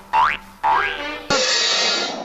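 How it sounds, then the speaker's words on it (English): A cartoon boing effect of the kind used for Gerald McBoing Boing: two springy rising boings in quick succession, then a longer bright ringing twang, close and clean with nothing else behind it. "that's the sound of Gerald McBoing Boing."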